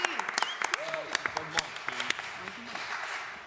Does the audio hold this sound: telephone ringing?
no